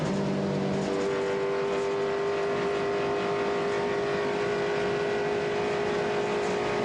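Spec Corvette race cars at Auto Club Speedway, a continuous steady engine roar from the field at racing speed, heard from a distance with no talk over it.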